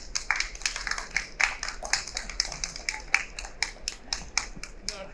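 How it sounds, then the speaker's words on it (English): Applause from an audience at a retail business talk, heard as scattered, uneven hand claps from a modest group, fairly close and fairly quiet, with no talking. "So can I have a big round of applause for them?"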